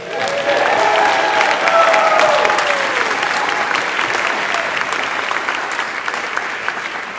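An audience gives a round of applause for Edgar, the organizer of an immigrant advocates summit, with dense, sustained clapping and a few faint voices that taper gradually over about seven seconds.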